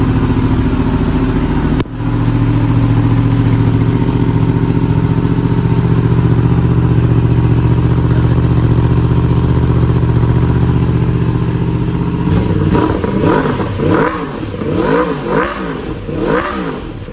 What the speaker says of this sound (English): Let's go ahead and listen to this bike and see what this sounds like.